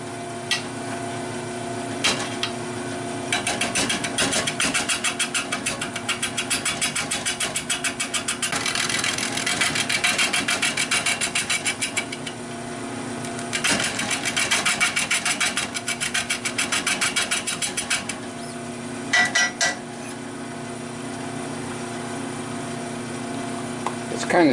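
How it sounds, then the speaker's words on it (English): A wood lathe motor turning a hexagon-rimmed bowl blank at around 360 RPM, running with a steady whining hum and repeated pulsing surges that sag and recover, loud and close, with no talk over it. "It seems like my lathe is losing power."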